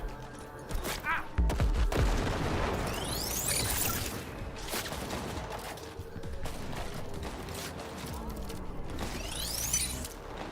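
A grenade explodes amid gunfire in Cyberpunk 2077 combat: a loud, thudding blast early on, followed by ongoing shots, clattering impacts and whooshes in a busy, dense mix.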